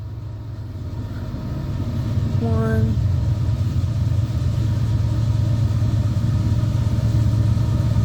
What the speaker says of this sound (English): That looks like a slow train